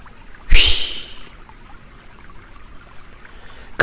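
A single loud splash of a big wave crashing against a boat, played as a sound effect, bursts out briefly and then fades into near quiet.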